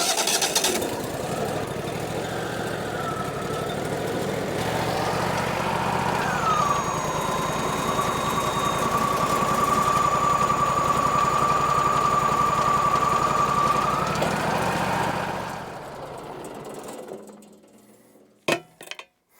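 A sawmill engine runs steadily and loudly for about fifteen seconds, holding a constant droning pitch with a rising whine, then cuts off and dies away, leaving a few faint knocks.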